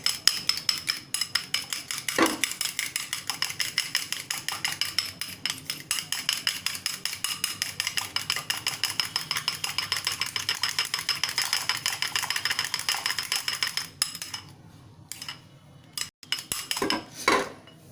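A whisk beats mug cake batter in a cup with a fast, steady stream of rapid metallic clinks for about fifteen seconds, then slows to a few scattered taps, close and fairly loud with no talk.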